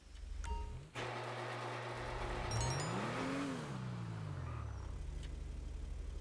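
A Mercedes 190E drift car built in Falken livery in GTA Online, its engine droning steadily, then revving up and falling back in a rising and falling sweep, with tyre and road noise underneath and no voices.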